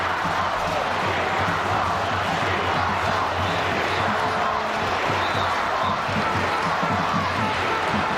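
Home football crowd for Newcastle Jets against Melbourne Victory roars and chants in full voice, a dense, continuous stadium din with rhythmic chanting underneath and no letup.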